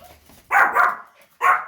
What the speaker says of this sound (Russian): Лариса, Игорь вон притащил обмороженную собаку, биркованную.